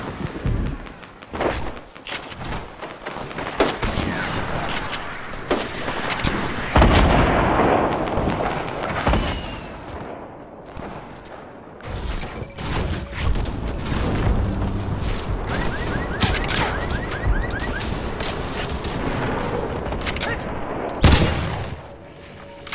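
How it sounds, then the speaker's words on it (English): A giant explosion during the Marshmello Showtime event in Fortnite sets off a long, dense barrage of booms and crackling blasts that rolls on loud and continuous, with a few sharp peaks. "Because I saw this giant explosion,"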